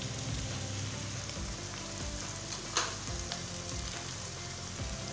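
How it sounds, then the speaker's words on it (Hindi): Tomatoes fry in a pan with ginger paste just added for a mash daal dish, giving a steady, close sizzle and crackle with light stirring scrapes throughout and no talking. "टमाटर हमारे थोड़े से फ्राई हो गए हैं। अब हम ऐड करेंगे 1/2 टेबल स्पून अदरक का पेस्ट"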